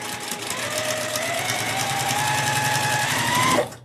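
A sewing machine stitches two half-square-triangle quilt squares together, running as a steady fast whirring stitch for about three and a half seconds before stopping abruptly.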